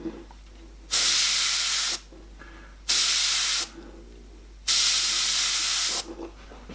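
Airbrush spraying paint onto a horror portrait, heard as three long, steady bursts of loud airy hiss separated by short pauses with quiet room tone between.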